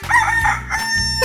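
A chicken crows once in a 3D animal video game, a loud, close cock-a-doodle-doo rising and falling over about a second, with a game music bed underneath.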